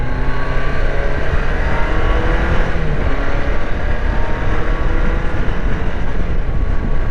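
A 1999 BMW K1200LT touring motorcycle engine drones steadily while riding, loud and constant with wind rush, no talk.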